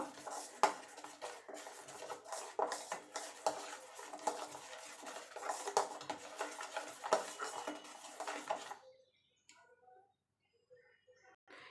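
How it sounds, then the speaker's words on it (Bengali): Fish being stirred and mixed with mustard oil in a bowl, busy scraping and clinking close up for most of the clip, stopping abruptly near the end, leaving faint light taps. "এবার ভালো করে মিশিয়ে নেব।"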